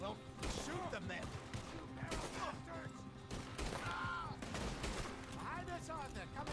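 Revolver shots and other gunfire ring out in a Red Dead Redemption 2 gunfight, with repeated sharp bangs and crashes amid busy game sound effects. Voices speak over the fairly faint mix.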